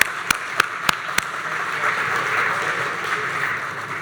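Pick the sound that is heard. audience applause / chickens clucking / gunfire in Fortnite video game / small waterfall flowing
audience applause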